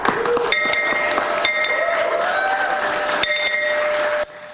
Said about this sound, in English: These 2 students are celebrating graduation from UCAN Youth Services by ringing the nonprofit's bell